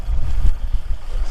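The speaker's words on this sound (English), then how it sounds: "Sorry about the wind." Strong, gusty wind on an exposed hilltop on the South Downs buffets the microphone with a dense, rumbling roar that swells and dips irregularly throughout, loud and with no voices.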